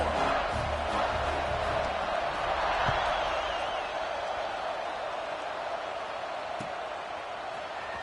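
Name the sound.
stadium crowd buzzing in College Football 26 video game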